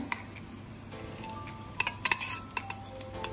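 Hot oil with fried onion tempering sizzles softly as it is added to moong dal, while utensils clink and scrape against a pan in a few sharp, irregular knocks.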